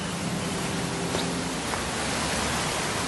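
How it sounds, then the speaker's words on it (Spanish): Wind sweeps steadily across an open field in a continuous broadband hiss with no gusts or breaks, like a flat ambient bed with nothing else in it. "Desde el viento que se oye en un campo,"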